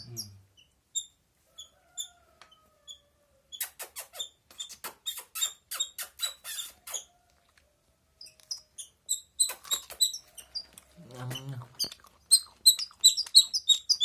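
High, squeaky chirps from a small baby bird being fed, repeated in quick bursts and clusters, close by and fairly loud, with short pauses between runs.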